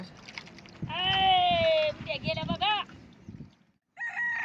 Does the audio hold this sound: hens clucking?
yes